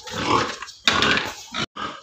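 Pigs being weighed on a farm grunt in a few loud, close bursts separated by short pauses, with no talk over them.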